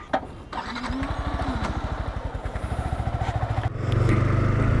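A 2022 Yamaha R15M motorcycle engine starts and settles into a steady, fast-pulsing idle close by, with a brief clatter at the start and the rumble growing louder and fuller near the end.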